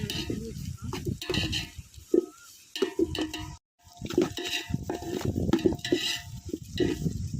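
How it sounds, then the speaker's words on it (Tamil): A spoon stirs sliced onions and curry leaves frying in a pan for chicken biryani, producing close scraping and clattering strokes over a soft sizzle, with someone talking over much of it. "இப்போ கொஞ்சம் நல்லா கிண்டி விட்டுக்கலாம் ஃப்ரெண்ட்ஸ் வதங்கட்டும் வெங்காயம்"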